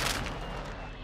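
A flashbang grenade is thrown in Call of Duty: Modern Warfare II, heard as a loud, dense burst of blast noise that holds steady through the whole brief moment without any talk over it.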